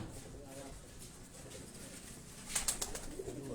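A black-faced flying pigeon on a rooftop in Karachi coos faintly against a soft background hiss, with a brighter cluster of calls near the end.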